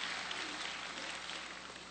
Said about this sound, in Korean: 자리에 앉으시고 수고하신 우리 자녀들에게 격려의 박수로 이 시간 드리도록 하겠습니다.